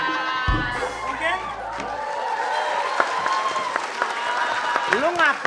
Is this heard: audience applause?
yes